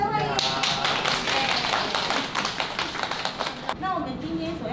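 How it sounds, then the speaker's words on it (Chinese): Applause welcoming guests at a children's activity centre, a short burst of many people clapping near by, with voices of the crowd mixed in. "掌声欢迎"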